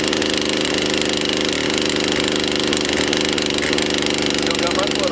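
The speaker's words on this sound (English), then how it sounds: "now I'm going to let the saw run a little bit and warm up" A Poulan Pro 4218A chainsaw, about five years old, runs at a steady, loud, close-up idle as it warms up after starting, its two-stroke engine buzzing continuously throughout.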